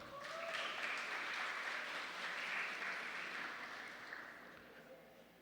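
An audience at an education seminar on gender diversity gives a round of applause, soft and somewhat distant, swelling briefly and then tapering off.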